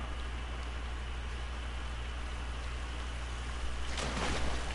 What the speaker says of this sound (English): No, that was just the waterfall.